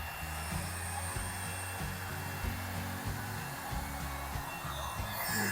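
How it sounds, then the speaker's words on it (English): A blow dryer runs steadily up close while paints are mixed on canvas, its continuous whirring hum wavering slightly as it is moved around. "mixing my paints up with my blow dryer."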